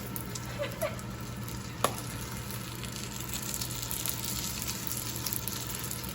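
Beef sizzles and fries in a hot pan for a Vietnamese pizza, a steady close-up hiss with a brief clink partway through and no talking.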